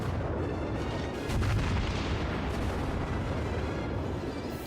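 Main guns of the battleship Fuso firing in World of Warships, a loud booming artillery blast that swells near the middle and rolls into a long, dense rumbling tail, with no voices.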